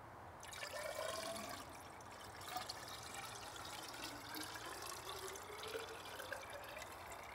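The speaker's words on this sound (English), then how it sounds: "we pour water in to make it just at the top" Water pours steadily into a graduated cylinder, a continuous soft splashing and trickling that lasts several seconds, faint and close with no talking.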